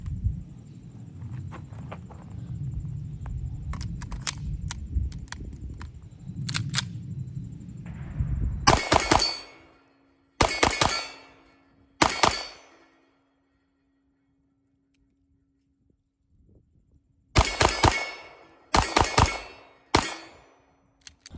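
Ported, modified Kimber 2K11 Eclipse pistol fired in quick triple taps: three tight bursts of three sharp, loud shots each, separated by silent pauses, with some handling noise at the start.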